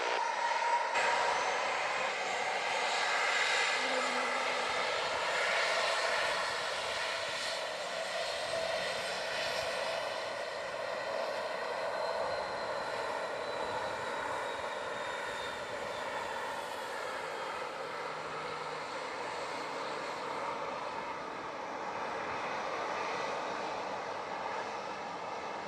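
A Southwest jet taking off from runway 07 at Montego Bay airport in Jamaica produces a sustained, powerful engine roar that slowly fades and shifts as it climbs away, heard alone for about 25 seconds.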